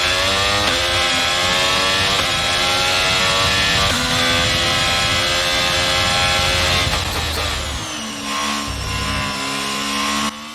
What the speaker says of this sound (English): That is the new updated Ferrari engine sound, which wasn't in the previous build of the game.